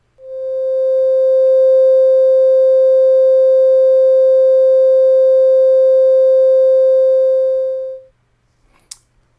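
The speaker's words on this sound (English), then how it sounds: "Let's take a listen to some of the other waveforms. We'll start with the sine waves." A pure, steady electronic sine tone from a Mu format synthesizer VCO holds for about eight seconds, then cuts off, followed by a faint brief click.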